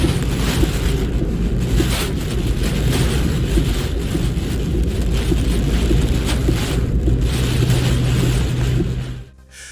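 Super typhoon Dolphin's wind roars over a stormy ocean near Japan, China and Taiwan, a loud, continuous buffeting rush with crashing sea beneath that cuts off abruptly just before the end.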